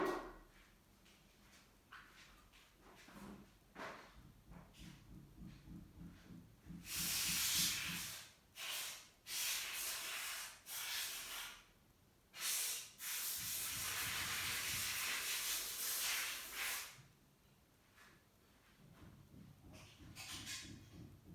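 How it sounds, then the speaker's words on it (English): Canned air duster sprays in several bursts of hissing air while cleaning dust from an HP Compaq 6200 Pro small form factor desktop, with longer steady blasts between shorter puffs, close and fairly loud. "I have used dust can cleaner"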